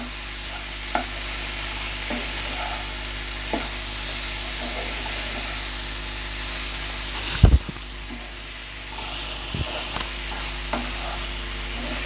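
Chicken roast masala with tomatoes sautés in a pan under a constant, moderate sizzle, broken by occasional scrapes and stirring knocks, including one sharper clatter midway.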